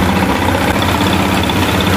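A motorcycle engine runs steadily at idle during a test of a faulty rectifier that puts out too much voltage, a loud continuous close-up rumble without talk.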